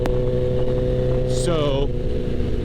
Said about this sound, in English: I put a new exhaust on my bike, and as you can see, it is ridiculously loud.